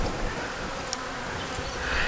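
Honey bees buzz inside a small queen nuc, a dense, steady drone close up with no voices.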